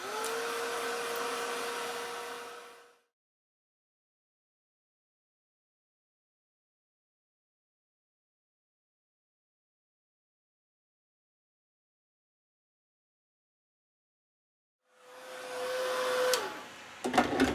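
A blow dryer drying an art project whirs steadily for about three seconds and cuts off, then after a long silence starts up again near the end, with a few clicks as it stops.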